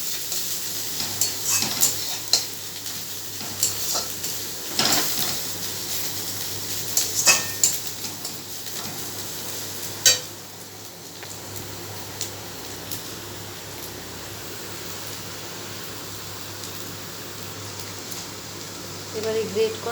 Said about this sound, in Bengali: রসুনটা ভাজা ভাজা হয়ে গেছে, সাইড দিয়ে আমি একটু আদাটা দিয়ে দিলাম।